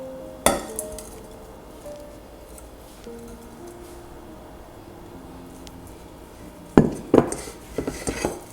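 Cold porcelain clay is scraped and knocked from a bowl into a pot, a few sharp clinks and taps of utensil against dishes separated by quiet gaps, with a louder cluster of knocks near the end.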